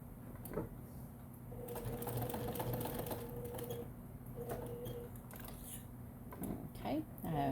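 Sewing machine stitching a double-pocket bag at a reduced stitch length, giving a steady mechanical whir with rapid needle ticking that stops and starts, close by, with faint voice-like sounds at the end.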